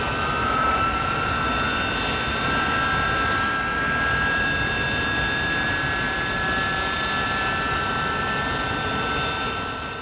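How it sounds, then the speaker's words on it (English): Hawker Siddeley Kestrel jump jet on a pad with nozzles deflected downward, its jet engines opened up into a loud, steady, unbroken roar with a high whining tone running through all ten seconds. "Onto a pad, nozzles deflected downwards, and the pilot opens up the jets."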